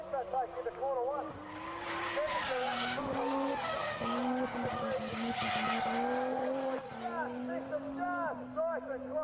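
Drift cars slide into the first corner at a Drift Nationals battle, tires squealing in long wavering screeches over roaring engines that rise and fall, while a commentator talks over the action.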